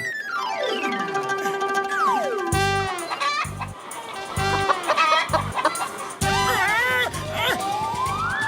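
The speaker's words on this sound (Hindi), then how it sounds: "वो देखो सामने से मुर्गी आ रही है" A cartoon hen clucks and squawks loudly in rapid bursts, mixed with sliding whistle-like tones and thumping comic music in an animated scene.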